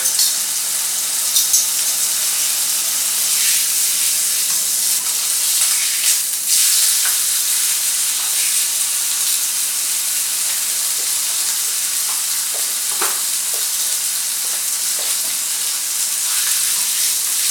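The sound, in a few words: meat frying and sizzling in a pan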